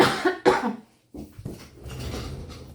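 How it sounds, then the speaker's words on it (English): Two sharp, close coughs from a man in quick succession, followed by a softer throat-clearing rumble and quiet room noise. "Excuse me, I need to cough."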